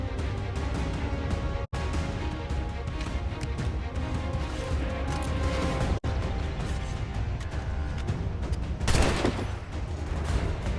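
Dense, continuous gunfire from the Assassin's Creed 3 video game, shots piling into a steady roar. A short louder burst breaks through near the end.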